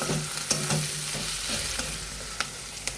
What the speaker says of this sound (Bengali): এখন পেঁয়াজটা এখনও ভাজা চলছে